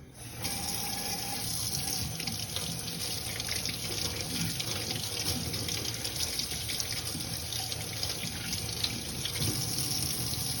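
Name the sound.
running tap water while washing hands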